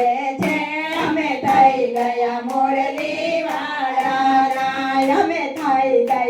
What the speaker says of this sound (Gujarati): અમે તાળી પાડીને કહીએ છે